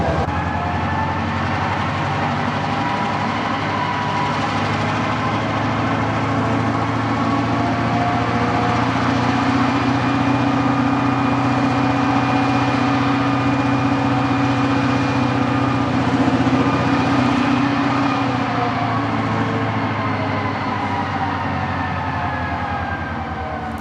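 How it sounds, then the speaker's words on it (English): An EMD GP38-2 diesel locomotive works hard shoving a cut of cars around a curve toward a mill, its engine roaring loud and steady for the whole stretch with sustained tonal whine and no voices. "as it rounds this curve and shoves the cars the last little bit towards the mill, we're going to hear it start screaming in run 8."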